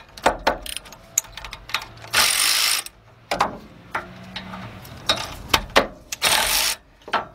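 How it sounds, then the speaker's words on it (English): A big ratchet fitted with a 10 mm socket works the rear brake caliper bolts on a 2003 Ford Explorer 4.0, giving rapid clicking bursts separated by short pauses and a few metallic clanks, close and loud. "get our big bill ratchet with our 10 millimeter socket on it"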